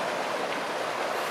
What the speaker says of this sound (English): And throwing rocks in the water.